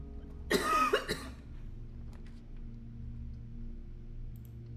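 A person coughs hard in a short burst of about three harsh, hacking coughs, close and loud, followed by a quiet room with faint background hum.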